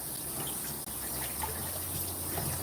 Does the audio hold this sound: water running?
yes